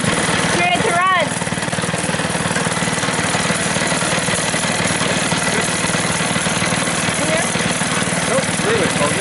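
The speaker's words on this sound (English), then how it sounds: "Once it started, turn the choke off. Turn it to run." An 80cc Mega Moto mini bike engine runs nearby at a steady, loud, buzzing idle that continues throughout the clip, with a brief voice early on.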